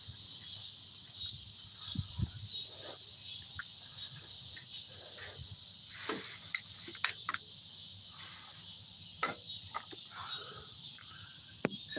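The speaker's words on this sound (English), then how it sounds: "Hearing cicadas a whole lot better because they're right behind us." Cicadas drone steadily in a high, continuous outdoor chorus from trees close behind, broken by scattered faint ticks, rustles and footsteps.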